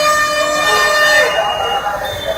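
A Chennai MTC city bus horn is held down continuously, a loud, near, blaring tone that sustains through the whole moment with road noise beneath.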